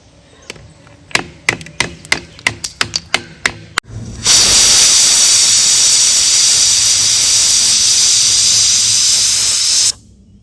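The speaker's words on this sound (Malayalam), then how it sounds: "ഒരു വിസിൽ അടിച്ചിട്ടുണ്ട് നമുക്ക് തീ ഓഫ് ചെയ്യാം" A pressure cooker holding a jackfruit-seed curry vents steam in one loud, continuous hiss lasting about six seconds, after a run of sharp rhythmic clicks.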